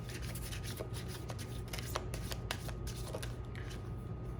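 Tarot cards are shuffled by hand in quick, soft riffling bursts, close and quiet, with no talking.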